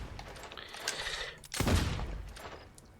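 A short burst of gunfire sounds in the video game Fable 2, a fast rattle of shots followed by one heavier blast that fades out.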